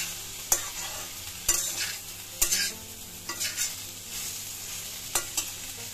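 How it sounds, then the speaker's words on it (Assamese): Cauliflower stalk curry with tomato is stirred in a hot pan: sharp spoon knocks and scrapes land every second or so over a low steady sizzle, close by and with no talking. "দি গোটেইখিনি ভালদৰে লৰাই দিছোঁ।"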